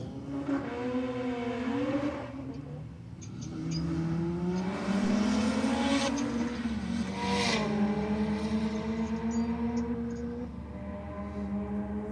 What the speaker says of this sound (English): the start line being smoked out once again